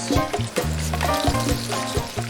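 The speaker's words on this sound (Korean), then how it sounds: "지글지글 기름에 노릇노릇 익어가는 빛깔" Food fries in sizzling oil in a Turkish imperial-style kitchen, with crackling sizzle and short bursts of spattering repeating rapidly, close and fairly loud, alongside faint clinks.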